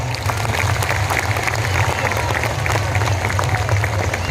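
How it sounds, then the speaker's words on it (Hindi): Loud, sustained applause from a large crowd at an Ambikapur tribal rights rally, dense clapping and crowd noise filling the space steadily throughout. "जोरदार ताली से स्वागत करा"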